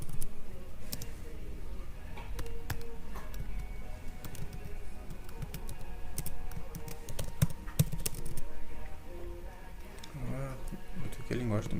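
Rapid clicking of a computer keyboard while someone types commands into PowerShell, a steady run of close, light keystrokes mixed with a few louder taps, heard under someone talking throughout.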